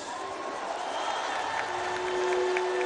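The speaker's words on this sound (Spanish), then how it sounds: "un aplauso para ellos." A large crowd applauds at a presidential speech in the Zócalo, Mexico City's main square, producing a steady, distant wash of clapping and cheering that holds for the whole stretch.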